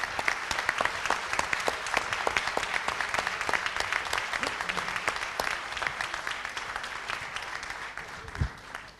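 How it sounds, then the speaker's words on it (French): A crowd applauds steadily in a hall after a request to keep clapping as a group gathers on stage, dense hand claps continuing without letup and with no talk over them. "Et je vais vous demander de poursuivre vos applaudissements"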